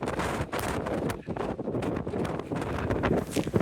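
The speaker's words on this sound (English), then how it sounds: "See, it's a bit windy" Strong wind buffets the microphone in a steady roar with gusty rumbling, loud and close, with no one speaking, on a hilltop with a cairn and trig point along the Cumbria Way in November.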